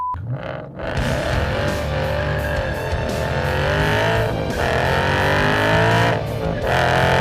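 A supercharged V8 in a Roush Stage 3 Mustang roars loud and continuous after a brief quiet start, the engine and exhaust building and holding a dense, rumbling howl with shifting revs and no talk.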